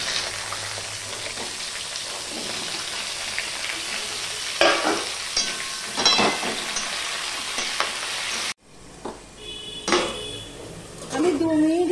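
Hard vegetables such as red potato, green plantain and flat beans hit hot oil tempered with spices and are stirred in the pan, a steady loud sizzle with spatula clinks and scrapes that drops away briefly near the end.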